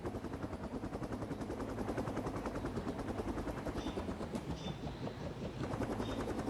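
A helicopter lands in the mobile video game Rope Hero Vice Town. Its rotor gives a steady, fast chopping pulse that runs continuously at even loudness, with no talk.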